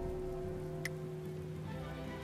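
Steady rain falls in the Nobunaga's Ambition Taishi strategy game, a soft, even hiss of drops with a faint sustained musical tone beneath and one brief bright tick partway through, all at low volume.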